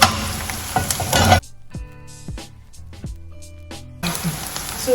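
Onions frying in hot oil for vegetable fried Indomie noodles, loud hissing sizzle at the start and end with a quieter middle stretch of crackles, pops and clinks.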